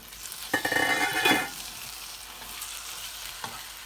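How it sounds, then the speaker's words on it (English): Onion and aubergine sizzle in a pan for a vegan curry, a soft frying hiss with a burst of stirring and scraping early on and another brief stir near the end, close up with no talk. "Put the aubergine into the onion. Stir the aubergine with the onion."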